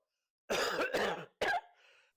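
A man clears his throat twice, a long rough rasp and then a shorter, harsher one, close up in a quiet room.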